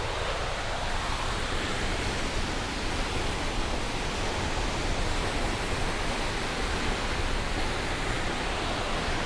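A proper waterfall pours in a constant, broadband rush of falling water, steady and fairly close, with no talking over the roar.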